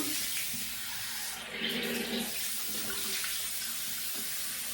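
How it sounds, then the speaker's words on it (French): Tap water runs steadily into a sink while a face is rinsed, a continuous close hiss with slight splashing changes as hands move through the stream. "je nettoie bien mon visage. Je vais par la suite le rincer."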